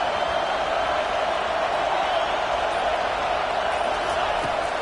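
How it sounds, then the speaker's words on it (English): A packed stadium crowd in a college football video game roars at a deafening, steady level, sustained without a break as fans try to force a fourth-down stop. "This crowd busting the decibel meter and trying to will a 4th down stop."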